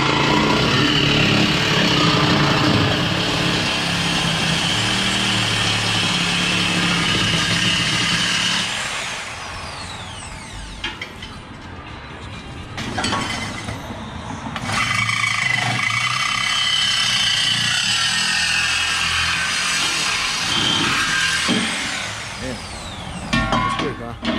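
A power tool cuts off the exhaust resonator on a 3.5 Ecoboost, grinding loudly and steadily, pausing for a stretch, then cutting again. People talk near the work in between.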